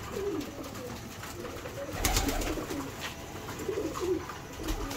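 Soft, muffled pigeon cooing rises a few times over a steady background hum, with a brief thump near the middle.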